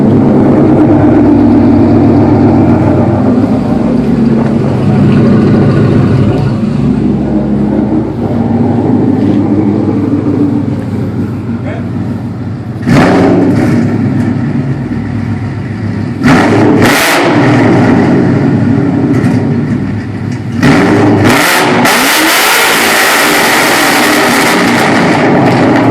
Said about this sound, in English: 2012 Mustang GT Sherrod quad exhaust.